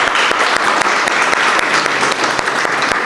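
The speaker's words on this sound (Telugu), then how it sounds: "గట్టిగా ఒకసారి చప్పట్లు కొట్టండి మీరు" Steady, dense applause from an audience at a Christmas festival event, loud and continuous throughout with scattered individual claps standing out.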